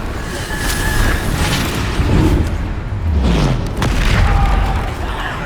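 Repeated booming blasts of the Bombarda explosion spell in Hogwarts Legacy, several heavy low thuds rolling over a steady loud rumble of combat noise, with no clear voices.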